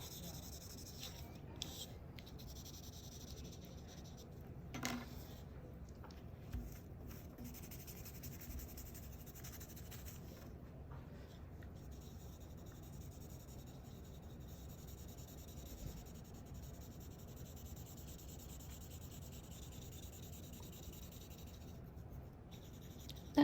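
Soft graphite pencil rubbing and blending across paper on a still-life drawing of a bowl and tabletop, a faint continuous hiss with a few light taps, close and quiet with no talking.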